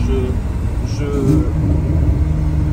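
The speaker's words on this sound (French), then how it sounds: "tu sais qu'elle accélère comme ça jusqu'à 360" Engine of a 900-horsepower car accelerating, a dense continuous roar with rising tonal whine, loud and close throughout the short stretch.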